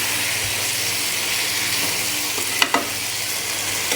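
Meat and vegetables sizzle steadily in a hot cooking pot for a mixed sabzi gosht, with a constant loud frying hiss and a couple of sharp scrapes of a spoon stirring.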